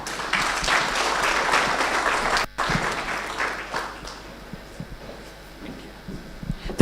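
A graduation audience at a data protection certificate ceremony breaks into loud, dense applause that thins out and fades to scattered claps over several seconds.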